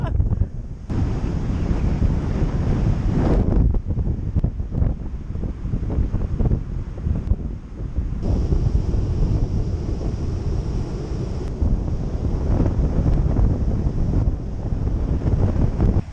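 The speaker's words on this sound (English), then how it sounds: "it's so windy" Strong wind buffets the microphone in a constant roar, with surf rumbling underneath throughout.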